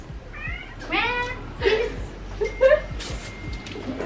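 A cat meows several times in quick succession, close by, with a person's voice and light movement sounds in the background.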